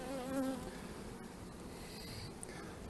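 A soft, continuous buzzing of honeybees at a hive, several insects droning at low volume with a faint hum throughout.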